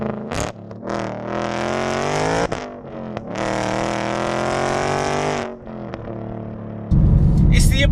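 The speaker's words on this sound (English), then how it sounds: "But once you actually put your foot down and start going, it's ridiculously loud." A loud supercharged Roush Ford Mustang 5.0 V8 GT with a six-speed manual revs hard and accelerates in long rising pulls, engine roar rising and falling between gear changes, ending in a burst of rushing wind noise.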